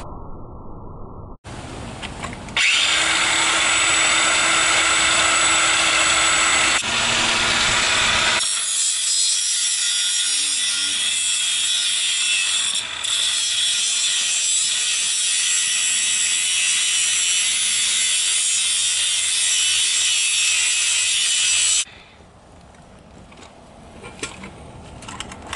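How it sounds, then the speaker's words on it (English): An angle grinder shaves down the back end of a car suspension part, a loud, steady high-pitched grinding that runs for most of the stretch before cutting off. "I'm using just an angle grinder."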